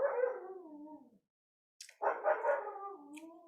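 Close by, a dog howls in long, wavering cries that fall in pitch. A short whimper breaks the brief silence between two drawn-out howls.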